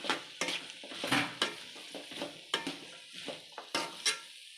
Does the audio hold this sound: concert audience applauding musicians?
no